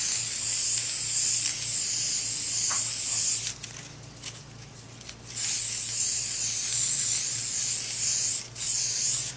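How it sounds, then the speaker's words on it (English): Steady hissing spray from an aerosol can of chrome spray paint coating a prop weapon, running in long bursts with a brief pause in the middle, close and fairly loud. "I'm just using a chrome spray paint."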